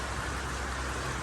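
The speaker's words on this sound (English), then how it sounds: "The rain is beautiful and much needed." Steady rain falling at a homestead ahead of a storm, a dense, even wash of hiss with no breaks, fairly loud and close, no voices.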